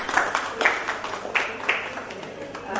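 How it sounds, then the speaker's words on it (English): Audience applause for a speaker at an ophthalmology conference hall, a moderate wash of clapping with sharper individual claps standing out, heard briefly at a steady level. "we could have a round of applause for him"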